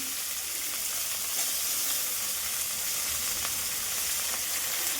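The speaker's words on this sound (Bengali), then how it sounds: "ওদিকে ভাজাটা বসিয়ে দিয়েছি" Ivy gourd and potato frying in a pan make a constant, even sizzle and hiss at moderate volume, unbroken for the whole stretch, with no voices.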